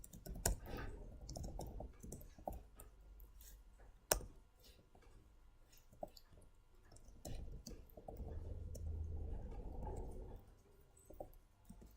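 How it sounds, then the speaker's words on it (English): Computer keyboard typing during a C++ programming session, with irregular clicks and taps continuing across the stretch alongside soft room noise, some louder bursts and thumps. "Typing is getting repetitive."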